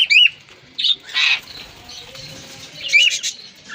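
Cockatiels in a breeding colony, with bursts of wing flapping and sharp chirps at the start, middle and near the end, close and fairly loud against quieter background chatter.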